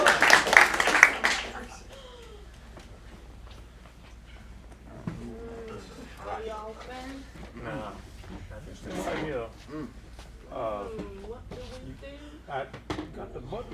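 An audience at an acting studio's sketch showcase bursts into a short, loud round of applause, which quickly fades as people begin talking.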